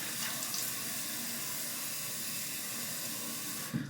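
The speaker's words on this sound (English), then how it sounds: "I'm going to get some warm water on my face." Warm tap water runs steadily into a bathroom sink while the face is wetted before a shave, a continuous, fairly close hiss that holds unbroken for about four seconds.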